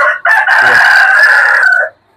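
A heavy rooster of about 4 kg crows loudly and close by, one long drawn-out call after a brief opening note, then silence.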